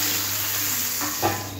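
Prawns fry lightly in hot oil until reddish, producing a close, steady hiss and sizzle with one brief louder crackle near the end.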